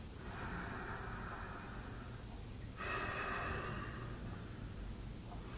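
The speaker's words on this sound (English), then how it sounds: "Let's take a couple breaths together." Slow, deep breaths taken during a standing qigong posture, two long airy exhalations heard close up and soft, one after the other, over a faint steady background hiss.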